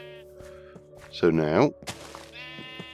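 A sheep in a video game bleats once, loud and wavering, over steady game music, while someone talks before and after the call.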